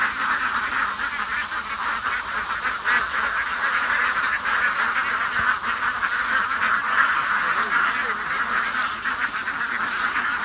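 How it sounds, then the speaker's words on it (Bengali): A flock of ducks on a duck farm quacking continuously, a dense overlapping chorus of honking calls that holds steady and loud throughout. "হাঁস"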